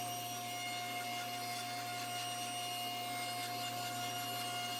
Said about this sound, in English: Using my table saw, I ripped enough plywood to width for these parts.